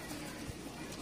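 Low, soft cooing of pigeons close by, a muffled throaty burble against a faint background.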